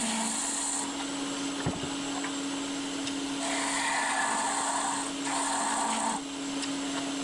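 A wood lathe spins while a piece is turned into an onion shape, giving a constant motor hum and steady whir, with brighter scraping passages as the tool cuts the wood.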